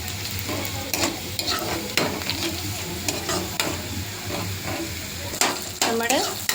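Tomatoes frying with prawns in a pan give a steady, moderate sizzle, with intermittent scraping and tapping from stirring close by and a faint murmur in the background.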